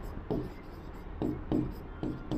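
A pen writes on paper during a Class 10 NCERT maths lesson, giving soft scratchy strokes in short bursts, roughly five or six over a couple of seconds, close and fairly quiet, with no talk.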